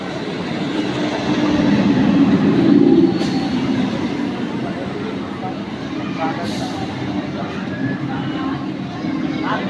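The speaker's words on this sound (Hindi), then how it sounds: "सामने से गाड़ी जा रही है।" A train runs past at a railway station in India, a steady rumbling roar with a louder surge early on, heard close and continuous, with people speaking over it.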